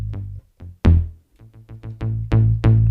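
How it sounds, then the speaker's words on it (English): Synth bass from a Dr. Rhythm drum machine kit plays a short sequenced line of punchy, plucky low notes with sharp attacks, separated by brief gaps and played alone. "And the bass on this kit sounds like this."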